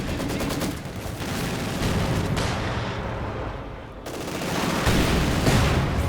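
Artillery fire in the video game Company of Heroes 2, a dense, continuous barrage of booming shots and rattling gunfire that stays loud throughout, with no talk.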